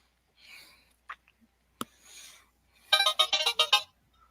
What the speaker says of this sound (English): The phone's on vibrate. I don't know why it keeps going off.